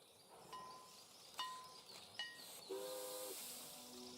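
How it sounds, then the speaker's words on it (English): Train sounds in the Heroes of Might and Magic: Olden Era video game: a few sharp metallic clanks spaced apart, then a brief tonal horn-like whistle, fairly quiet with no talk. "it has the train sound from the Steam"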